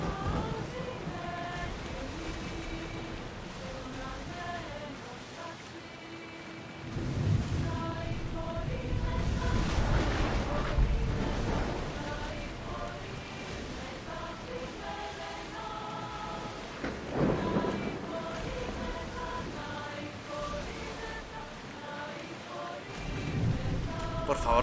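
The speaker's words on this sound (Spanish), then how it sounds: "Que pare un poco la tormenta" A thunderstorm in Assassin's Creed Odyssey: steady rain over a low rumble, with heavier surges of thunder partway through and near the end, a long continuous wash of weather noise.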